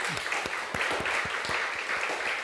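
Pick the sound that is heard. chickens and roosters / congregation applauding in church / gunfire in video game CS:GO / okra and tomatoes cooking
congregation applauding in church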